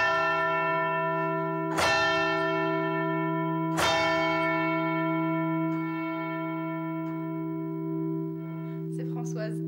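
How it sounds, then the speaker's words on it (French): A large bronze church bell in a bell tower struck twice, each deep, resonant strike ringing out with a long humming decay, close and steady. "les lourdes cloches de bronze peuvent être montées ou descendues du clocher"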